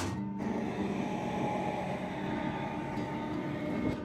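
An Amrit Bharat Express train rumbles steadily past, a continuous, fairly loud mechanical roar with rattling undertones and no voices.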